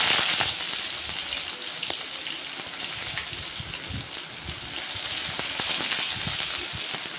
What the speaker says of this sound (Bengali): দুটো শুকনো লঙ্কা তারপর দিয়ে দিলাম একটু জিরে তারপর হালকা একটু পেঁয়াজ